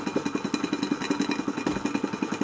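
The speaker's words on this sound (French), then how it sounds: "Le moteur est parti. Alors c'est un très bon petit moteur industriel qui était de moyenne puissance" A small industrial steam engine of medium power, built for small workshops and with a balanced crankshaft, runs at a steady pace, its even, rapid chuffing beats close and moderately loud, with no speech.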